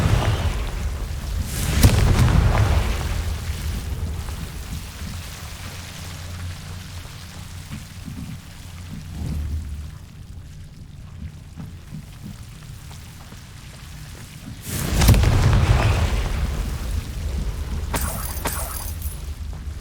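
Spell blasts from the Confringo fire curse in Hogwarts Legacy burst as deep booming explosions, one early and another later, each rumbling out over a quieter ambient stretch.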